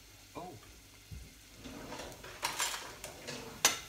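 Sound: onions and garlic frying in a pan, stirred with spoon

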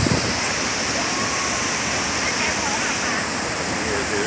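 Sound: waterfall

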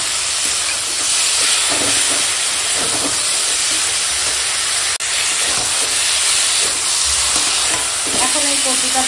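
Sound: sautéing taro stems with spices in a pan

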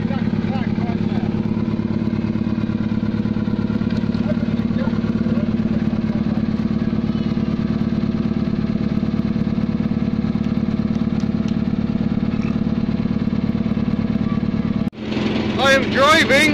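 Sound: JCB engine running while driving

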